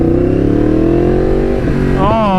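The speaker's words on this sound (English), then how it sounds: "Hopefully you guys could hear me over this exhaust." A loud Yamaha MT-10 motorcycle exhaust rumbles and revs close by, the engine note holding steady before climbing sharply at the end.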